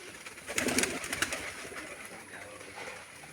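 Pigeons coo softly nearby on a pigeon farm, with a few flutters and rustles early on, then quieter murmuring coos against a light background hiss.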